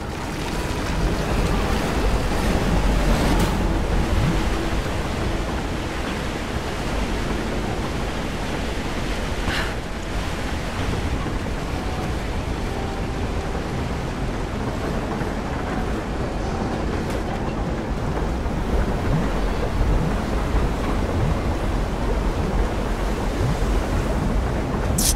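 Steady broadband rush of flowing water in Rise of the Tomb Raider, a continuous even wash filling the scene without pauses, heard alone with no talk.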